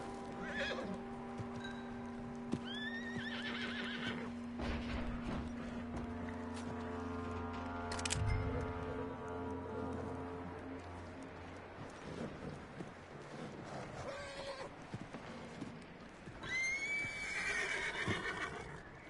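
A horse neighs and whinnies in Red Dead Redemption 2, with clip-clopping hooves and ambient game sounds, a sustained whinny mid-clip and another high whinny near the end, fairly quiet and nearby.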